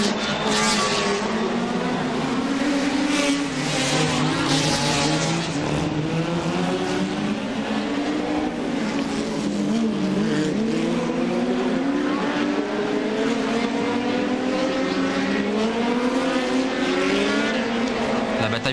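Formula Junior race cars roar through the Monaco Grand Prix streets, several engines overlapping in loud, continuous revving and shifting pitch as they brake and accelerate, with commentary over them.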